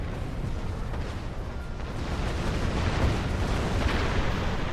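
Torpedo explosions hit a ship in the Star Trek Online video game, giving a dense, continuous rumbling roar of blasts at a steady level with no talk.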